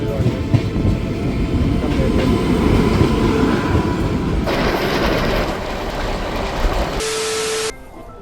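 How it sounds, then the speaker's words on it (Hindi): A Lucknow AC double-decker train at Anand Vihar railway station in Delhi rumbles with loud, close wheel clatter. A high steady tone enters near the end before the noise drops sharply. "भाई क्या शानदार लग रही है ट्रेन।"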